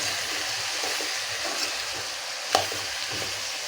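A ridge gourd and drumstick curry is stirred in a sizzling pan after salt goes in, making a steady close frying hiss with one sharp clink of the spoon partway through.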